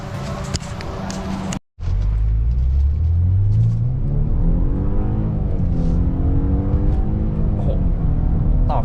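A BMW F10 with a Euro Arts aftermarket exhaust revs up with a deep, smooth roar after a brief cut, then settles into a rumbling idle with rising and falling pitch nearby.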